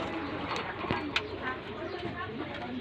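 Pigeons cooing in a breeder's loft, soft low coos repeating under a steady background hum with a few sharp knocks, and a voice talking at moments.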